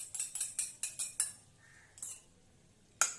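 A metal spoon clinks repeatedly against bowls while set curd is spooned into them, giving about eight quick, bright, close taps in a steady rhythm, then a pause and one more sharp clink.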